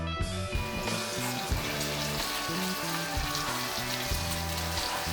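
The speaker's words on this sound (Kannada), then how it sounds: "ಇವಾಗ ಕಟ್ ಮಾಡಿರೋ ಆನಿಯನ್ ಹಾಕ್ತಾ ಇದ್ದೀನಿ" Freshly chopped onion hits hot oil in a pan for dal, a loud, dense, steady sizzle that holds without a break from start to finish.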